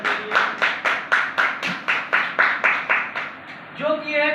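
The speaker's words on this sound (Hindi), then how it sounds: "सबसे पहले मैं चाहूँगा जोरदार तालियां हमारे सर के लिए" Audience at a company gathering claps in steady unison for the CEO, a dozen sharp rhythmic claps at an even beat, ending as a voice starts speaking.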